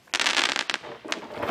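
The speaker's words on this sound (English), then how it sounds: "End of the fireworks." Fireworks burst and crackle in a loud close flurry during a full-moon night, a dense rush of sparkling crackles followed by a couple of sharper pops.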